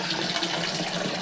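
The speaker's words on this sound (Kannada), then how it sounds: "ಈಗ ಹೀಗೆ ನೀರು ಬರ್ತಾ ಉಂಟು." Water flowing steadily from a household pipe connection, a continuous soft hiss and gush that is fairly close and constant, with no voices over it.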